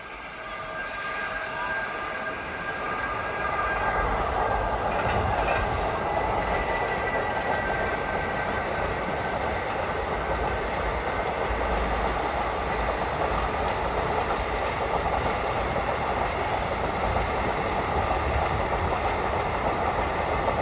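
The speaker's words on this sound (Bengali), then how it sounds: "আর এই যে ট্রেন ঢুকছে গাইস, ট্রেন ঢুকছে সামনে, দেখো দেখাই" A train rolls in beside the Kopai river at Bolpur, where people bathe along the bank, giving a loud, steady rumble of rail cars that fills the whole stretch, mixed with gusty wind.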